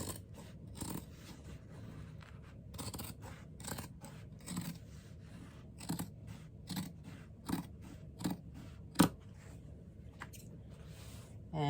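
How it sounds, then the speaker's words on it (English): Scissors chop through two layers of denim from old jeans, a steady run of sharp, close snips spaced about every second, each blade closure crisp and distinct against quiet room noise. "And I'm just cutting through both layers."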